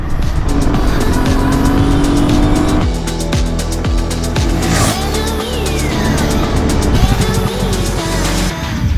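A Royal Enfield Himalayan 450 motorcycle revs and rides along at speed, its engine droning loudly and steadily close by with pitch swells and shifts throughout.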